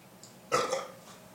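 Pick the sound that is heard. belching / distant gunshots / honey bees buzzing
belching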